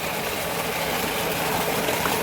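On a farm field, a submersible pump drives flowing water with a steady broadband rush and low hum, loud and constant from start to end with no voices.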